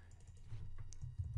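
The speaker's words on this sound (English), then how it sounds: "And now you can start typing whatever you want." Rapid clicking keystrokes on a computer keyboard, close and steady, with a few heavier taps near the end and no talking.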